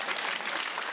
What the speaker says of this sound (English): hope that noise was you clapping